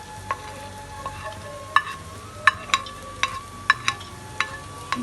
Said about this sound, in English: We put them all and mix them well together.